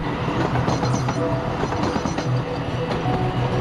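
A subway train runs through a tunnel with a continuous loud rumble and rhythmic clatter of wheels on track, close and steady throughout, with no voices.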